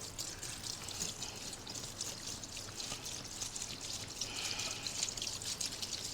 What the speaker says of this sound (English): So we're going to go ahead and pour vinegar in here.